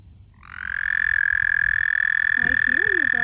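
Mating frogs sing a loud, sustained high-pitched trill that swells in after a brief quiet start, with a voice speaking underneath near the end.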